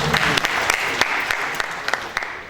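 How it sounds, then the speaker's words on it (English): An audience at a university event gives a round of applause, a full, lively clapping with several crisp individual claps standing out above the steady crowd sound. "Please another round of applause for Professor Mohammed Baba Mawa."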